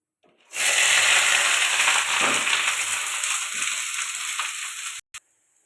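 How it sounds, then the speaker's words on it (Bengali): Green chilli and onion hit hot oil in a wok with a sudden loud sizzle that holds steady for several seconds before stopping abruptly, followed by one brief knock. "কড়াতে তেল দিয়ে দেবো তেলটা গরম হয়ে গেছে এখন দিয়ে দেবো কাঁচা লঙ্কা পেঁয়াজ"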